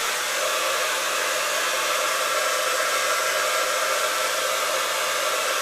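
A hair dryer blows steadily and loudly at close range while straight, smooth hair is blow-dried after a thickening paste is applied. The broad airy roar stays even throughout and nobody speaks.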